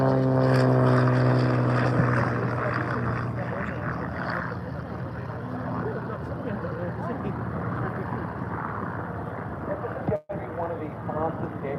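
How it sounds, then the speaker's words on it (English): An Italian aircraft passes at the Aldinga airshow, its propeller engine a loud harmonic drone at first that settles into a steady roar while a commentator talks over it. "One of the fastest aircraft you're going to see here."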